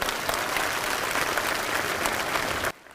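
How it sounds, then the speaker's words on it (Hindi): Dense, loud applause from a large crowd at an outdoor political rally for Akash Anand, steady clapping for under three seconds before cutting off abruptly. "एक बार जोरदार तालियां हमारे सभी बड़े बुजुर्गों के लिए"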